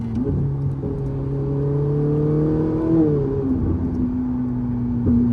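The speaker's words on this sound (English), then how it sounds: "I love the noise as well when the valves open." A throaty Ferrari 458 Italia engine revs and holds, rising then dipping as the throttle lifts, with crackling exhaust changes as the exhaust valves open and close; close and loud, no voices.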